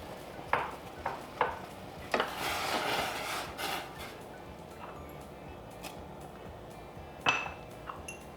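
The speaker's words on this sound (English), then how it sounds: "So we're gonna throw this all in the pot." Shredded zucchini, cauliflower and ground flax seed go into a pot, heard as several light thumps and clinks with a brief rustling scrape in the middle, then quieter scattered taps.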